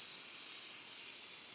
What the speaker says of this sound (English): Start the vacuum going.